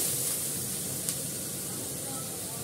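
Two bay leaves sizzle in hot ghee in a pan, making a steady close hiss with one small pop.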